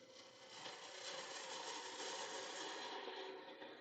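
A parting tool cutting into spinning wood on a lathe makes a steady, continuous rasping hiss that holds at an even loudness from start to finish, with no talk over it.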